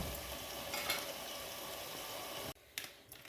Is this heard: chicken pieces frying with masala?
yes